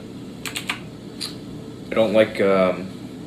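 Several quick keystrokes on a small mini keyboard tap near the start, then a voice talks over the rest, with the clacking fading beneath the speech.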